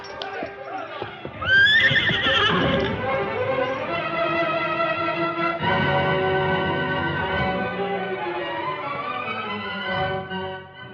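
A loud, drawn-out horse whinny with echo in an old radio drama, followed by faint clip-clop hoofbeats as the horse trots off.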